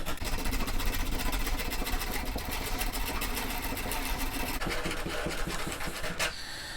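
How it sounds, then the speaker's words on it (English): Rough sandpaper is rubbed over a timber chair leg, producing steady, close, rapid back-and-forth scratching strokes that continue for several seconds without talk. "You want some rough sandpaper, because what you want to do is expose that grain in the timber and just give it a good sand."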